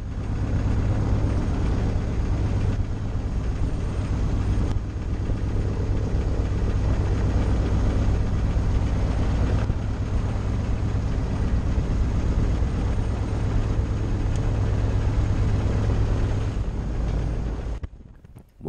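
A historic aircraft's engine idles steadily after start-up, a loud continuous drone with a strong low rumble and rough texture that holds evenly for the whole run before cutting off abruptly near the end.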